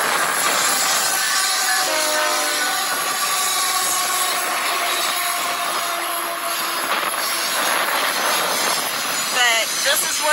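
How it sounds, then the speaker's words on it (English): A train rumbles past with squealing wheels and a few blasts of its horn, loud and close, with steady rail noise throughout. "And here comes the train. It might get loud."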